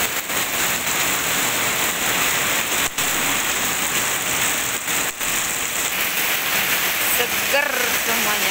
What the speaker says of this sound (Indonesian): Wow, deras banget hujannya.